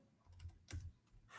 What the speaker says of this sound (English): Just typing everything like that.